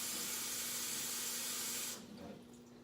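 Hot water runs hard from a tap in a steady, loud hissing rush that cuts off sharply partway through, leaving quieter room tone.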